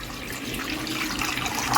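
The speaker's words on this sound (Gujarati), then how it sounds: "એક તાસડું લઈ એમાં પાણી ઉમેરીએ છીએ" Water pours steadily into a cooking pan for a raw mango sabzi, giving a soft, continuous splashing and gurgling flow that is close but fairly quiet, with no talk.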